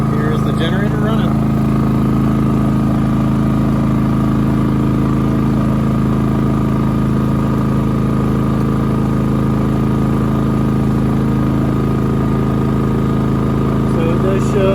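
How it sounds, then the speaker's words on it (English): A budget inverter generator running steadily in eco mode outdoors at about half load, a loud, constant engine hum with a strong low drone that stays unchanged throughout. "Here's the generator running."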